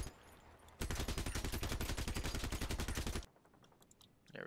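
Fidget machine gun in the vehicle combat game Crossout fires a rapid, continuous burst of sharp shots for about two and a half seconds, loud and close, then cuts off into faint background game sound.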